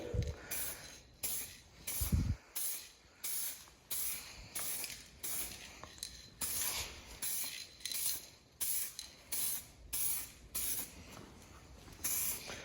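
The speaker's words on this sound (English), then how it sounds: "I think that we are good to spray." Spray paint hisses onto the roll cage of an RWB Porsche build in a series of about a dozen short, evenly spaced bursts, close and fairly loud.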